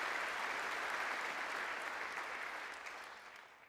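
Sustained applause from a crowd in the House chamber, dense and even clapping that holds steady, then gradually tapers toward the end.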